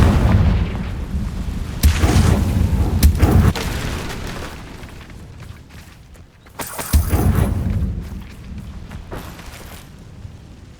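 The Confringo fire spell in the video game Hogwarts Legacy goes off in loud, booming blasts, several heavy detonations with crackling bursts and rumbling tails, one large explosion landing near the end after a brief lull.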